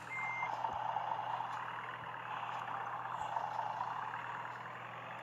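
Steady electronic reversing beeps from a bus in the video game Bus Simulator: Ultimate repeat over a low, continuous engine drone, with no talking.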